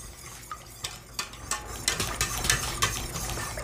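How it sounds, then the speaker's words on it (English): A whisk clinks against a bowl while mixing loganberry BBQ sauce ingredients, light irregular metallic taps growing busier, close and fairly quiet, with no talking. "I'm gonna use a whisk."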